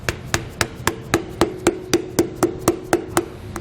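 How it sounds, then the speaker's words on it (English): Steady metallic hammer strikes driving a bearing buddy onto a trailer hub, about a dozen evenly spaced blows ringing out close by, each with a short bright ring, no voices. "just hammer it back into place"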